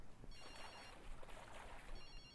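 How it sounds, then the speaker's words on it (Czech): A telephone rings in the open-world video game Sleeping Dogs, with two short electronic ring bursts, fairly faint, over a busy background of game ambience. "Můžu vzít telefon teď."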